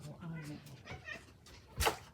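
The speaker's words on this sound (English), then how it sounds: "Here comes the cat." A house cat meows a few times under someone talking nearby, ending with a sharper, louder meow.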